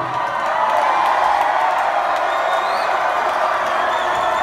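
A large concert crowd at a live show in Raleigh cheers steadily, a loud, dense roar of voices with scattered whoops sustained without a break.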